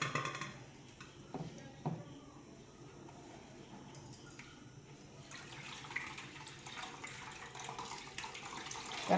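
Water trickles and drips steadily as it drains through a cotton cloth used as a strainer, a close, soft wet patter that thickens toward the end with no one talking.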